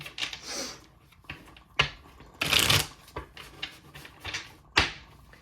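A deck of tarot cards shuffled by hand at close range: several quick riffling, flapping bursts separated by short pauses, with soft taps in between.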